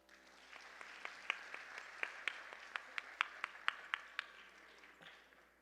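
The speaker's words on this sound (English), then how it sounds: "Let's hear another round of applause for them." An audience at a Bharatanatyam dance debut applauds the musicians with scattered, distinct hand claps that build to a loose patter and then thin out.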